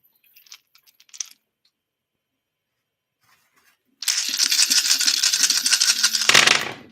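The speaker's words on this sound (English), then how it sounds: "Let's roll these dice." A few soft clicks and taps are followed by a loud, busy rattle of dice tumbling and clattering together for about two seconds, ending abruptly, close by and with no talking.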